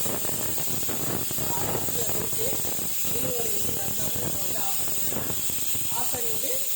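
A pressure cooker with squid gravy inside releases a constant steady hiss of steam, while someone talks over it in Tamil.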